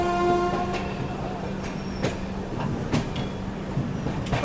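An Indian Railways passenger train, the 20802 New Delhi–Islampur express, runs at speed with a steady rolling rumble, repeated clicks and clatter from the wheels, and a tonal horn-like hum at the start.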